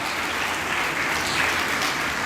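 Applause from a church congregation at Sunday Holy Mass at St. Padre Pio Church in Lahore Cantt: steady, dense clapping that holds at an even level throughout.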